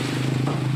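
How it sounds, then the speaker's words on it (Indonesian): A taro leaf cutting machine runs with a steady low motor hum and faint mechanical rattle, close and continuous. "Oh, mesin pemotong."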